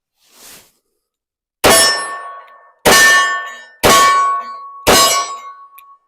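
A Colt Python revolver fires .38 Special rounds at a steel target, giving four loud, evenly spaced clangs about a second apart, each ringing out with a bright metallic tone, after one faint, short sound at the start.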